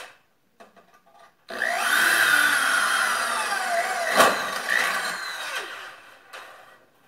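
An electric drill bores rivet holes in a metal lining sheet, starting after a quiet moment with a steady whining screech and a sharp spike as the bit breaks through, then winding down.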